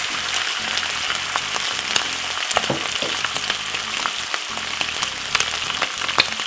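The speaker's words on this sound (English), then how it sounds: "put roughly a handful of the saltfish in the oil" Saltfish frying in hot oil with garlic, a loud, close, continuous sizzle with bright crackling pops throughout, no voices.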